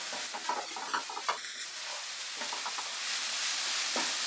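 Cabbage paratha filling frying dry in a pan, light sizzle with irregular scraping and stirring strokes early on, then a softer steady hiss.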